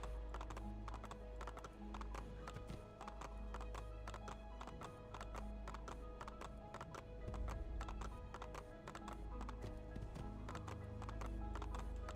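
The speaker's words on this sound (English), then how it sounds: "I just hold down the button and the horse gallops." Rapid, steady clip-clop of a horse galloping in Assassin's Creed II, hooves in a regular rhythm, with a low continuous hum underneath and no voices.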